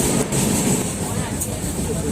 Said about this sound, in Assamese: ট্ৰেইনতে জাৰ্ণি আহি আছো